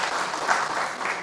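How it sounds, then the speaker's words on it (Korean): A crowd at the first official event of a creditors' coalition claps on cue from the host, giving a short, full burst of many hands clapping close by with no one speaking over it. "박수 한 번 더 주시기 바랍니다"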